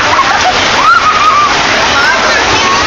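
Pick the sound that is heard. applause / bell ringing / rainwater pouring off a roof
rainwater pouring off a roof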